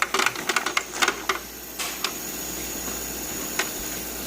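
Ice cubes dropping inside a Dometic countertop ice maker, a quick cluster of sharp clicks and clatters near the start, then a few isolated taps over a steady low motor hum.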